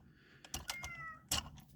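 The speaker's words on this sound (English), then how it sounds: "And there's my cat." A pet cat gives a faint meow in a quiet room, mixed with a few sharp clicks and taps nearby.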